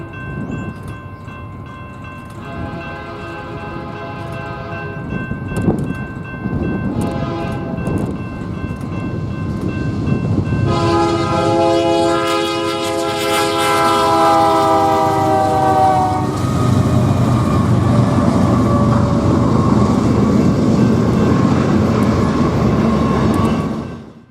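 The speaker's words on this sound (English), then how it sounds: "Here we see a westbound BNSF Z train heading through Daggett." A westbound BNSF Z freight train rolls through Daggett at about 50 mph, its horn sounding in long harmonic blasts over a steady, loud rumble of passing cars and wheels that continues to the end.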